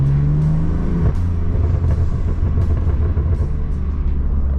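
A BMW M4 F82 on lowering springs revs while driving, a deep engine note swelling and dropping in a loud, close rumble with road noise underneath.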